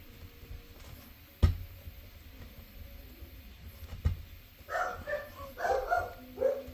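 Several dogs bark at home in short bursts partway through, fairly close and loud, following a couple of sharp knocks against a quiet room background.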